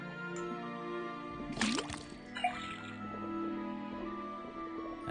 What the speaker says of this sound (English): First thing we do, then tap the faucet.